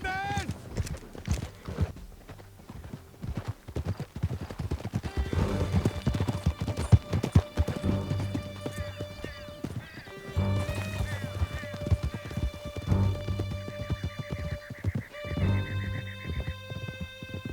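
Horses' hooves clatter in a fast, steady clip-clop gallop through a Red Dead Redemption II chase, with an occasional whinny, layered under music and bursts of speech.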